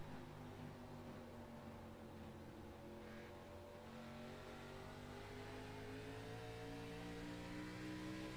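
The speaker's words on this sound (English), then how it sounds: "you can listen to him babying the throttle through the corners here" Number 9 ARCA Series race car at Nashville Fairgrounds, its engine held at a steady, smooth drone with gently rising pitch as the driver feathers the throttle through the corners, continuous and moderately distant.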